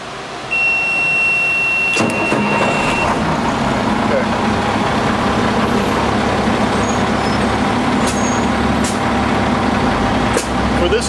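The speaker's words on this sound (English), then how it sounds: "So let me get the truck started up." A fire engine starts up: a brief beep and whine, then the diesel engine catches and settles into a loud, steady idle rumble with occasional clicks and hisses, running continuously at close range.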